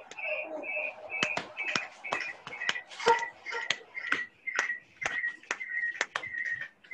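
An audience of Rotarians in India claps together in a steady rhythmic pattern, sharp group claps repeating at an even pace, fairly faint and at a distance, with a soft voice faintly heard underneath at the start.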